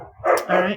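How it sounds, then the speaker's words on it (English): Playful puppies let out a couple of quick yips and barks in the background, brief and close, while a person speaks over them. "I don't know if you can hear my puppies, but they're playing in the background, making a ruckus"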